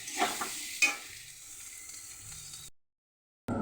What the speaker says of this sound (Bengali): রসুন বাটা, টমেটো, মিট মশলা, কাশ্মীরি লঙ্কার গুঁড়ি দিয়ে ভালো করে কষিয়ে নেব